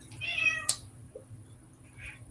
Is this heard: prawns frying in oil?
no